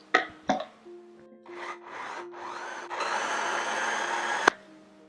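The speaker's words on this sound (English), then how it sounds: "add right into the blender cup" A blender starts with a few short pulses, then runs continuously and loudly as it purees ripe avocado into a smooth paste, with a sharp click before it stops.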